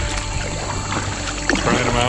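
Kayak paddling on the water at Proud Lake Recreation Area with new paddles: soft splashes and trickling water, close by, under someone talking.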